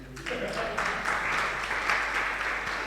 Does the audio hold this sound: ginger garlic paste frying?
no